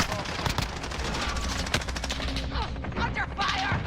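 Rapid bursts of submachine gun fire and scattered shots in a Call of Duty match, close and loud, mixed with game voices calling out.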